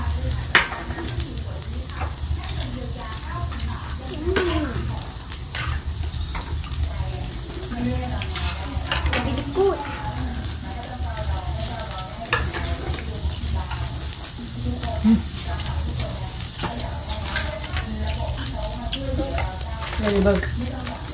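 Pork sizzles and crackles steadily on a hot tabletop grill outdoors in front of a house, a dense continuous frying hiss with occasional pops and clinks throughout.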